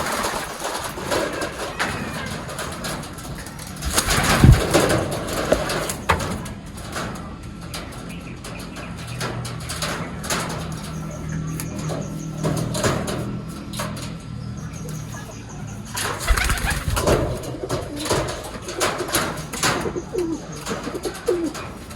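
Pigeons kept by a fancier coo repeatedly in low, soft, rolling calls at close range over light background noise, with a few sharper bumps.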